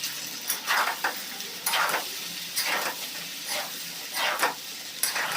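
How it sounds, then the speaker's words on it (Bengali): Boiled Chinese-style pasta tossed into a hot pan with spices and sauce, giving a steady loud sizzle broken by repeated scraping stir strokes at a regular pace, close up and without voices. "এবার দিয়ে দিব পাস্তাগুলো, বয়েল করা পাস্তা"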